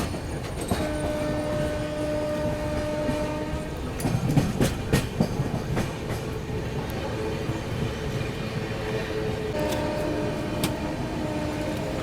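The Mahabodhi Express arrives at Prayagraj Junction: a steady rumbling roll of wheels on rail with rhythmic clacks, a sustained horn tone in the first seconds and another near the end, heard from on board.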